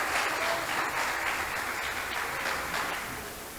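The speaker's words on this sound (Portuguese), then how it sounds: "Você pode aplaudir a vida dessas..." A church congregation applauds together at an evening service, steady broadband clapping that holds for a few seconds and tapers slightly toward the end.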